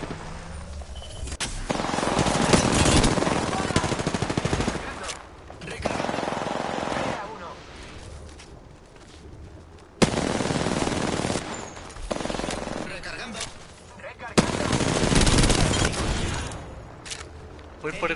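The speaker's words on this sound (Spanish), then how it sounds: "Los enemigos me están disparando." Bursts of rapid automatic enemy gunfire in a shooter video game, loud and sustained in several long volleys with short pauses, overlapping with talk.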